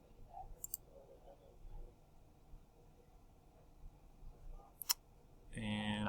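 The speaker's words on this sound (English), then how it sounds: "Let's click on this and see if how this works." A computer mouse clicking, with a couple of faint, close, sharp clicks separated by a quiet pause, in a hushed room before a tone sounds.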